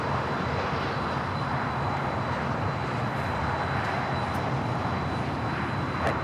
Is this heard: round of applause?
no